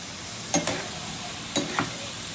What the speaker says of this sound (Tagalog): Mabilis lang maluto guys ang toge.